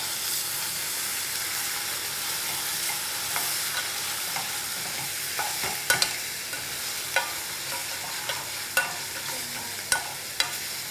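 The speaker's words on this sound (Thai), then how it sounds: "ปรุงรสด้วยซอสหอยนางรม น้ำตาลทราย ผัดให้พอเข้ากันครับ" Pesto stir-frying with oyster sauce and sugar for a crab fettuccine dish: a steady, even sizzle and hiss, then sharp spatula clicks against the pan, coming more often toward the end.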